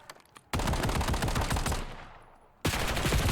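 Rapid bursts of gunfire from a first-person shooter video game, Black Ops 7, as one sustained loud volley after a brief quieter stretch, then a second volley starting near the end.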